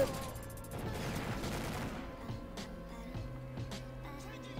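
A first-person shooter match with the MP5 firing: a quick run of rapid shots early, then scattered sharper cracks and game noise at a moderate, somewhat distant level, with no talk over it.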